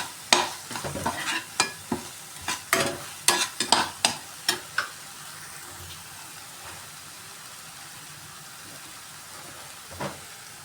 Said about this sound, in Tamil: சேர்த்து நல்லா வதக்கி விட்டுக்கணும் விழுது நல்லா வதங்கி வரணும்